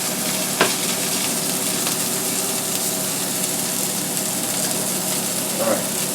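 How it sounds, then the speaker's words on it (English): Black pepper tuna medallions fry in a hot pan, giving a steady, loud, even sizzle with a couple of faint clinks. "my tuna medallions are pretty much done. So I'm going to turn the fire down for these."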